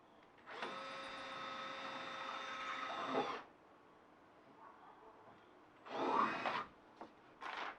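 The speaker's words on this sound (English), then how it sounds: "Did you just drill a hole?" A drill whines as it bores through cardboard lining a van wall, with one sustained run of about three seconds, then a shorter burst and a brief final spurt, all fairly quiet.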